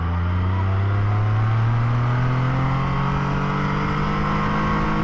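2022 Can-Am Spider F3-T engine accelerating on a curvy road, a loud close drone rising steadily in pitch as it revs up, heard alone.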